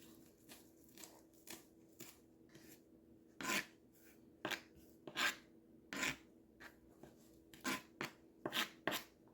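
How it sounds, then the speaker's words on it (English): A knife roughly chops vegetables on a cutting board in a home kitchen, with about fifteen close, crisp strikes in an uneven rhythm and short pauses between bursts. No one speaks. "And just give it a rough chop."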